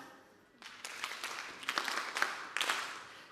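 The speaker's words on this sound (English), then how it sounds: "Farmer Field School clap." An audience at a sustainable agrifood systems event does a rhythmic group clap, several sharp claps in patterned bursts, moderately loud in a hall.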